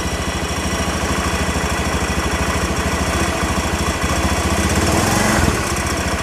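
Vehicle engine running close by with a steady throbbing idle, then given a gentle rise in revs near the end before easing back, heard alone and loud throughout.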